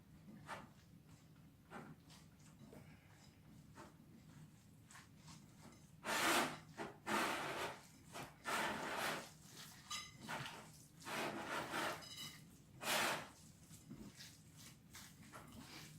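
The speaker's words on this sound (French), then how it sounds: "j'y vais directement avec les mains. C'est ce qu'il y a de mieux pour mélanger." Hands mix a chicken meatball mixture with breadcrumbs, making soft, close squelching and rubbing bursts in an irregular rhythm, louder in the second half, with no talk.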